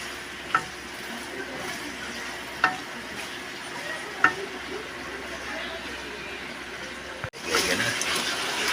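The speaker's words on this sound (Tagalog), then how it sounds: "Naluluto na ang sarili niyang mantika. Ang ating pork lomo with garlic. Prituhin po natin yan hanggang maluto." Pork lomo with garlic fries in its own rendered fat, a steady close sizzle with a few sharp stirring knocks, then a brief drop and a louder burst of frying.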